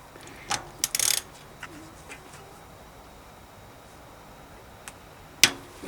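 An Allen key works a freehub bolt on a bicycle rear hub during a freehub swap: a few scattered light metallic clicks, then one sharp, close crack as the bolt breaks loose, with quiet gaps between.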